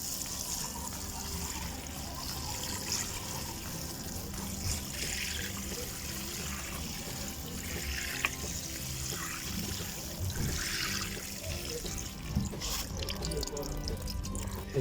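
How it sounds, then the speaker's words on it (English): Water pouring and trickling onto dry garden soil while planting radish seeds in a Cape Town garden, a soft continuous splashing that runs steadily throughout. "let's just water the soil"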